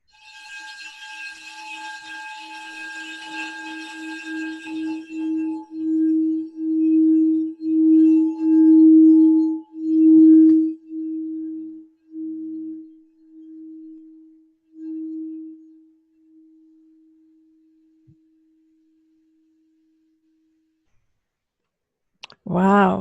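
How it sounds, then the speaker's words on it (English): A metal singing bowl played by rubbing around its rim builds a sustained, swelling hum that pulses in slow waves, grows louder, then fades to near silence; a brief sharp struck tone sounds at the very end. "Shall I play it going around the rim?"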